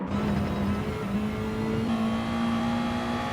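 Small Hyundai race car in a racing video game, engine droning steadily at high revs with a sustained whirring tone, loud and continuous throughout, no voices.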